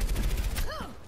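Rapid gunfire from an Overwatch match crackles over the first half second, with tonal ability sweeps and chirps following, all dense and mid-distance under faint game noise.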